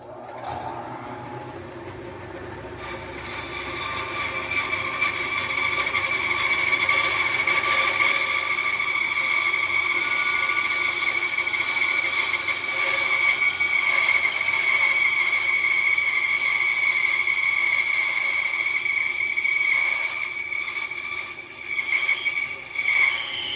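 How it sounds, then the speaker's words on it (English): A bandsaw resaws a roughly half-inch slice from a piece of olive wood, starting with a short idle and then a loud, sustained, whining cutting tone with a steady high ring, close by and without speech. "I'm going to make about a 1/2 inch resaw of this piece of olive"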